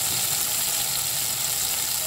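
Olives sizzle steadily in a hot pan for olive pickle, a dense continuous hiss with no breaks and no talking.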